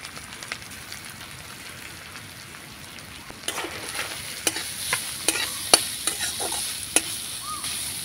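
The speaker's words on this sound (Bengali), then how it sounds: "নাড়াচাড়া করে ভেজে নিতে হবে" Chopped carrot, green chili and grated ginger fry in a pan, giving a steady close sizzle broken by scraping, clattering stirring strokes that grow busier and louder partway through.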